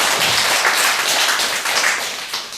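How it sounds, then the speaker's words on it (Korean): An audience claps together in a dense, sustained round of applause that holds steady and fades slightly at the end. "박수 한번 쳐주세요."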